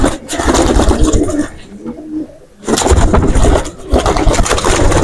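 Pigeon chicks cooing in loud, repeated bursts, with a brief quieter pause in the middle and a low engine-like rumble and voices around them.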